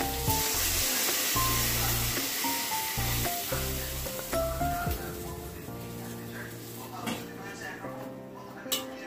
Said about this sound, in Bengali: আর এখন জলটা দিয়ে দিচ্ছি আলুর উপরে।